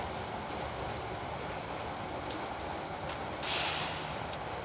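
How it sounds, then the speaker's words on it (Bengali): A train rolls along the railway line in front of a house, a steady broadband rumble with faint high squeals and clanks near the end, moderately loud and continuous throughout with no voices. "আসলে আমাদের বাড়ির সামনে একটা ট্রেন রাস্তা"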